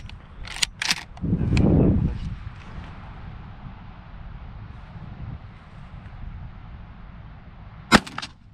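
A Derya MK-12 shotgun fires at a target outdoors, loud sharp blasts followed by a booming rumble, then quiet wind noise and another sharp report near the end.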